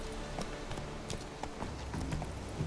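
Roach, the horse in The Witcher 3, gallops with a quick steady patter of hoofbeats that sounds faint against low background noise.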